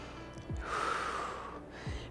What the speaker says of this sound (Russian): Восстанавливаем дыхание, дышим.